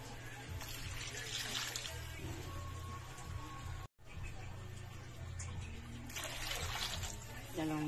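Water poured into a cooking pot for a pokchoy stew, heard as a near, continuous splashing trickle that briefly drops out midway and then resumes.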